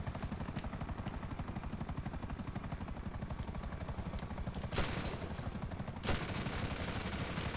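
GTA 5 military patrol firefight with rapid, rhythmic machine-gun fire over a constant helicopter rotor drone, plus two louder bursts of impact noise partway through.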